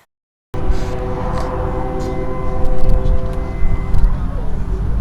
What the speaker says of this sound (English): Hear a train sound in the background.